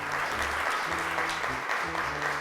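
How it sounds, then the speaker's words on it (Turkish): Audience applause for an astronaut on a Turkish children's TV show, a dense burst of clapping from a crowd lasting a couple of seconds at steady loudness. "Astronotumuza şöyle kocaman bir alkış alabilir miyiz?"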